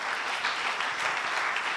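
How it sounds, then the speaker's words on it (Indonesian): A church congregation claps together during a worship service, a dense, steady burst of applause from a crowd filling the short moment. "Beri tepuk tangan dulu untuk Tuhan kita."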